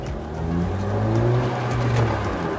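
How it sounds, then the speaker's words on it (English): Nissan Juke RS Nismo driving with a loud, aggressive exhaust, a steady deep engine drone rising and falling slightly as it pulls along, close and continuous with no talk. "Oh yeah, this sounds insanely good. The exhaust is very loud and very aggressive"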